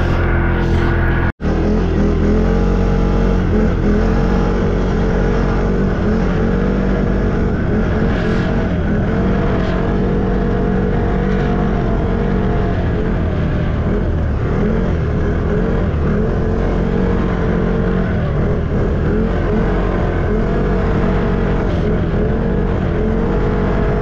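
Several Stels Guepard ATVs gathered outdoors with engines revving, a dense, loud, continuous roar of overlapping motors rising and falling throughout, with a brief cut near the start.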